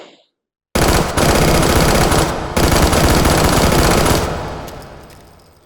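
Simulated PDW with a long stick magazine and G36-style charging lever firing full auto in the VR shooter H3VR: a loud, dense burst of rapid gunfire after a brief silence, one short break, then a fading tail.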